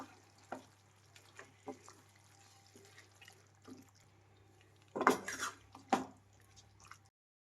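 Ground Byadagi chilli and cashew masala is stirred into chicken in a pan, giving soft, scattered scrapes and a faint sizzle, then a few louder spoon-and-pan clatters near the end.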